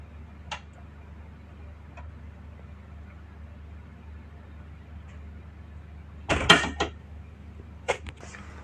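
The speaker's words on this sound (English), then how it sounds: "Now we'll see the door movement." A RITZ666 double-acting hydraulic concealed door closer swings a door shut, producing a few faint ticks early on and then a louder cluster of clicks and a thud near the end as the door settles, with low steady background hum.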